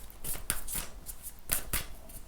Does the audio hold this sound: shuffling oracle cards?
yes